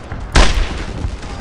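One close, booming gunshot from the World War II shooter Brothers in Arms: Earned in Blood cracks out, followed by a rumbling tail and steady battle ambience.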